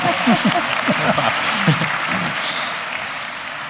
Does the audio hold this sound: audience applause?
yes